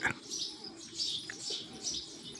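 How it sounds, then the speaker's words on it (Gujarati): Soft bird calls with faint cooing and chirps repeat at a gentle rhythm, somewhat distant, with no voices. "કબૂતર બહુ આવે છે"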